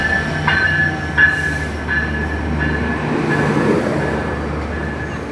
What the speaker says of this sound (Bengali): এই যে ট্রেন ঢুকে গেল।